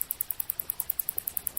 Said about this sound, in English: That's the sound of a narwhal looking for food using echolocation